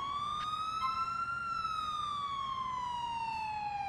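An ambulance siren in the LCPDFR police mod for a video game holds one long, loud wail that rises slowly and then falls, steady and close with no voices over it.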